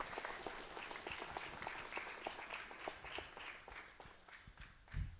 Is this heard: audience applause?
yes